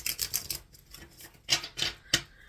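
Crisp papery riffling of tarot cards being shuffled, a few soft bursts early then three sharper riffles near the end, close and fairly quiet.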